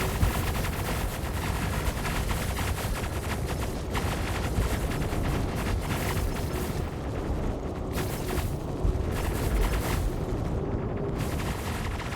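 Heavy ship-mounted guns on an Idris capital ship firing in the Star Citizen space combat game, a dense, sustained barrage of booming shots rumbling continuously and loudly throughout with no talk.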